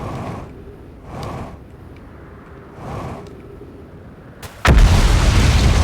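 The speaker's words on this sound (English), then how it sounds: "Look out for the exploding meteors." Exploding meteors in the space game Outer Wilds: two soft rumbling bursts give way to a sudden loud, close blast near the end that holds as a dense, roaring wash.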